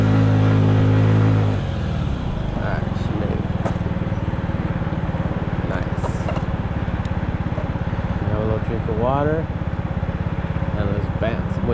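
A 50cc Honda Ruckus scooter strains up one of San Francisco's steepest hills, its small engine buzzing steadily and loudly at high revs after a brief louder burst at the start, with a rider's voice occasionally breaking in.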